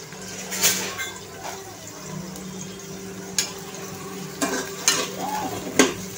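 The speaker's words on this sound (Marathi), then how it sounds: "तर पहिले आपण कांदे लाल करून घेऊया।" Onions frying in a pan, a steady sizzle with scraping stirring strokes that spike sharply now and then, no talking.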